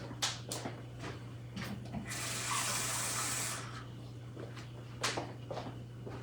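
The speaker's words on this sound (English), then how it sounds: "And I am going to add a little bit more water." Water runs steadily from a kitchen tap for about two seconds, rushing and hissing, between quieter clattering kitchen sounds while making tomato gravy.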